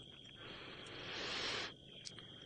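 Crickets chirp on a night safari drive in the bush, a steady high-pitched trilling that swells briefly in the middle and stands alone without speech.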